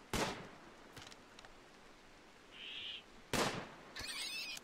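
Gunfire in the video game Rimworld: two sharp, close shots a few seconds apart, each a short loud crack, over quiet background with small game sounds in between.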